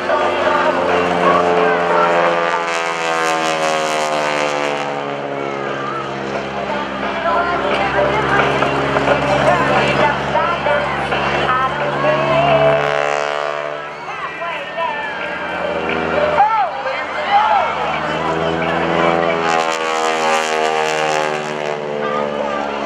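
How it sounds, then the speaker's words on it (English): Super Stearman biplane engine droning at a military airshow, a steady propeller roar with harmonic sweeps as it passes, heard under an announcer's amplified commentary throughout. "here comes Sam on the upper wing of Greg Shelton's Super Stearman"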